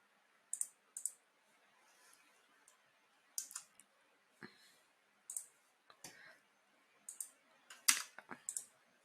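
A computer mouse in a Blender 3D modeling session gives sharp, close clicks in small pairs and clusters with short pauses between them, along with a few soft low taps and no voices.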